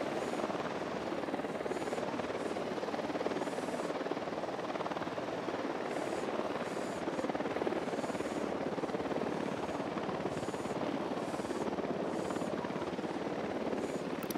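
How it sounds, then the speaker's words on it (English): A surveillance drone in the Ghost Recon Wildlands game hovers overhead with a constant whirring rotor buzz that holds steady and fairly faint for the whole stretch, no speech heard. "Drone is airborne."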